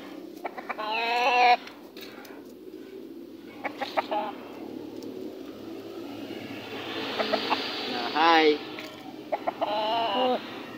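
Chickens cluck and squawk nearby in several loud bursts, with a rooster-like call and quieter farmyard noises between them.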